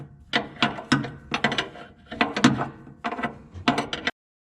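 A wrench works a fitting on a hydraulic line of a Kobelco SK160-6E excavator, giving a run of sharp metallic ratcheting bursts in uneven clusters, close and fairly loud, with no talking.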